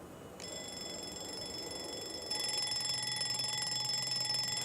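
An alarm clock rings continuously with a bright, high electronic tone that grows louder partway through, steady and close, with no talking.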